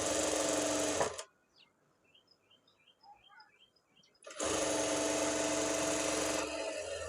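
A sewing machine stitches lining onto a main fabric piece in two loud, steady runs with a quiet gap between them where faint bird chirps come through.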